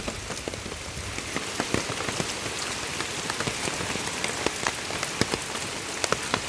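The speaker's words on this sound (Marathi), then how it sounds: "संध्याकाळच्या दरम्यान जरा पाऊस भरपूर चालू झालेला हा" Heavy evening rain falling on surfaces outdoors, a dense steady hiss with scattered sharper drop hits, continuous and fairly loud, no voices.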